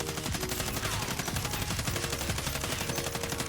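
Holger gun firing continuously in a video game, a rapid, steady stream of loud automatic shots lasting the whole stretch with no pauses and no talking.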